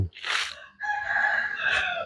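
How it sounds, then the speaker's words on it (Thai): Chickens on a small organic mixed-vegetable farm: a close, sharp squawk, a brief pause, then a long drawn-out rooster crow rising to a strained finish. "นี่ครับนี่ไก่"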